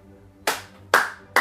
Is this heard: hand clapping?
yes